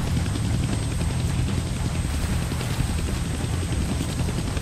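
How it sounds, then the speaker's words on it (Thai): Steady, loud helicopter rotor and engine drone from the Deadpool video game, a continuous whirring wash with no break. No voices are heard over it. "Damn, they found the helicopter's on switch."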